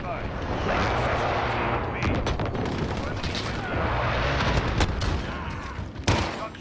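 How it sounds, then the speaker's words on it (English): Precision airstrike explosions in the Call of Duty: Modern Warfare video game, a dense run of booming blasts and crackling gunfire that sustains for several seconds, loud and near, with a sharp closing burst. "Friendly precision airstrike on the way."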